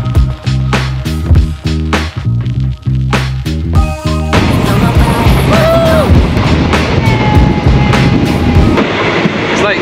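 A train runs on rails in Thailand on the way to Ayutthaya, starting with rapid rhythmic clacks over the track and then a loud, steady rumble with a few squeals, heard up close.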